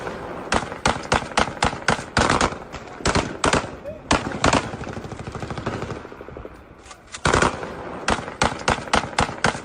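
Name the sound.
gunfire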